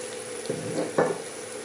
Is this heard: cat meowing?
no